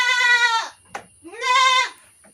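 Etawa crossbreed goats at a goat farm give two loud, close bleats, each wavering and nasal, separated by a short pause with a brief knock between them.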